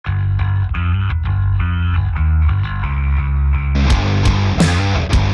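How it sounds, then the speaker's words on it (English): A distorted, effects-heavy bass guitar plays a chugging riff of repeated notes in Doom Eternal style, loud and close, with a brighter, more saturated tone toward the end. "We need bass. I'm going to do some bass now."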